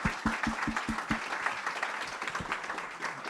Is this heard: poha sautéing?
no